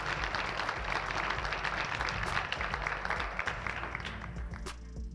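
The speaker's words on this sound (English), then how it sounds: "And can we give a round of applause for Cassie Bingham" An audience at an MLK commemoration keynote breaks into steady, dense applause, many hands clapping at once from fairly close, holding for several seconds before easing slightly.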